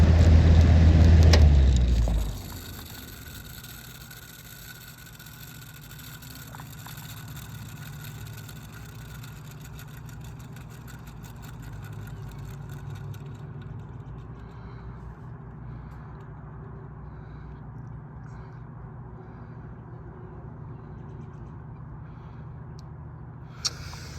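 Vintage Evenflow 2302 box fan on high speed switched off: a loud whooshing roar cuts out sharply after two seconds, leaving a faint low hum and quiet background as the blades wind down.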